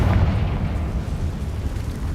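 A Confringo explosive spell cast in Hogwarts Legacy produces a dense, low rumbling blast that rolls on steadily for about two seconds, with no voice over it.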